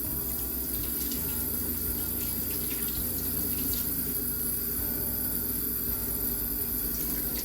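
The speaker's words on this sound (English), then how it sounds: "next step is to wash the apples" Apples being washed under a running kitchen tap, a steady close rush of water splashing into a sink that continues evenly throughout with no pauses and no talking.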